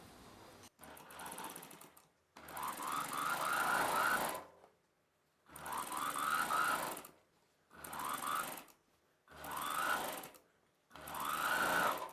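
A sewing machine stitches the neck joint of a blouse while piping is attached, running in five rapid whirring bursts of about one to two seconds, separated by brief pauses, close and steady.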